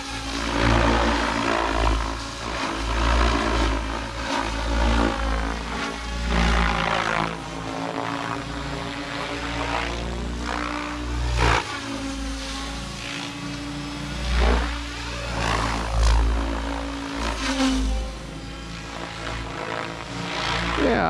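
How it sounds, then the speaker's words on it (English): A Blade Fusion 700 RC helicopter flies with a steady, fairly loud whine and whirring rotor drone that rises and falls in waves as it manoeuvres, with no talking over it. "I do like how floaty this heli feels."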